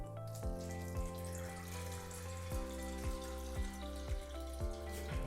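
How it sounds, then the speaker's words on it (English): Two pints of water pour into an enema bag in a bathroom, a steady faint stream with gurgling splashes and no talk. "keep the bag open so that you can pour your water in"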